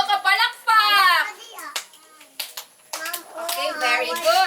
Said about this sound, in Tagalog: tagaan nato sila og tulo ka palakpak